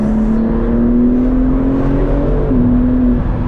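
A BMW G80 M3 Competition engine revs steadily while the car is spun around, a sustained loud drone with a rising pitch that dips briefly and then climbs again, with no talking.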